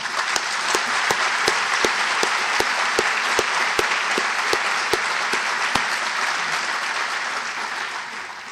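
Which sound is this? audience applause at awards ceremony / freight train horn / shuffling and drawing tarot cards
audience applause at awards ceremony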